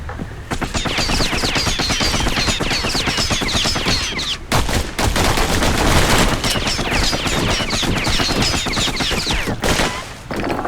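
The Kid fires his guns in Bastion, a rapid, rhythmic stream of loud shots in quick succession that rattles on steadily, pausing only briefly midway before resuming.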